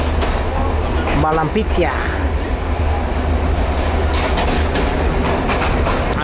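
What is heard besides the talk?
moving passenger train interior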